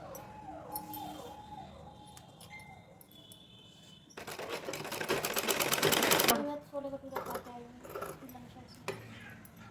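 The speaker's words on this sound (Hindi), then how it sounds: "इसको चारों तरफ सिलाई लगाकर इसको अटैच कर देंगे" A sewing machine runs in a burst while stitching a saree neckline onto an Anarkali gown, between quieter handling clicks and soft rustles, with someone talking over parts of it.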